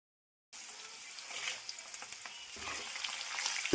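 Mustard seeds, cumin, garlic cloves, curry leaves and dried red chillies crackle and sizzle in hot oil for an Andhra-style cauliflower pickle, starting after a brief silence and building into a busy spitting fry close to the pan.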